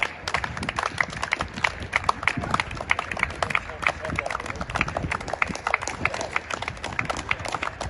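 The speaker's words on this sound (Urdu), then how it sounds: "ہائی ویکم ہاسپٹل میں کورونا وائرس کی وجہ سے کام کرنے والے تمام ورکرز کے لیے تالیاں بجا کر ان کی حوصلہ افزائی کی گئی" A crowd at High Wycombe Hospital applauds workers during the coronavirus outbreak, with dense, continuous clapping from many hands mixed with voices and calls.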